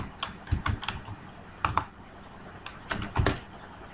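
Keys clatter on a computer keyboard during data entry in a spreadsheet, coming in quick clustered bursts of taps separated by short gaps, close and clear without speech.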